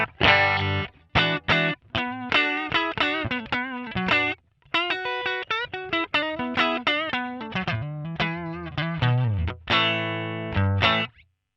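Electric guitar played through a NUX MG-300 modeler on its Deluxe Reverb amp setting, loud chords and short riffs with brief pauses between them, colored with a warm overdriven edge and a light shimmer.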